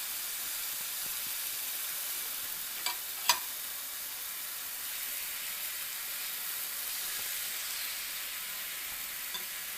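Meat grilling on a village barbecue, a soft, continuous sizzle and hiss heard fairly close, with a couple of sharp pops or crackles partway through.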